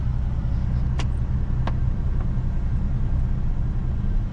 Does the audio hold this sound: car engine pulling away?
yes